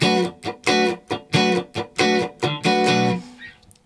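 Electric guitar playing a choppy, funky rhythm, short muted strummed chords in a tight syncopated pattern, played alone and clearly up close.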